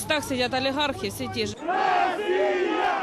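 A crowd of protesters in eastern Ukraine chanting "Russia" in rhythmic unison, loud and close, with voices rising together in repeated syllables and a dense roar of massed shouting in the second half.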